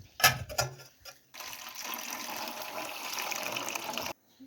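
Fenugreek leaves being washed in water in a home kitchen, with a few splashy clatters up front, then a steady pour or gush of water running for a few seconds before stopping abruptly.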